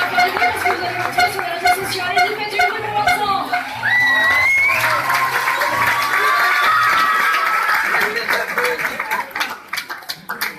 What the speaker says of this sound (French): Allez-y, faites du bruit pour Vincent.